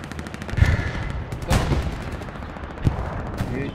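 In the World War II shooter Hell Let Loose, scattered rifle and machine-gun fire cracks out in uneven bursts, with a few sharper, louder shots standing out against a noisy battlefield background.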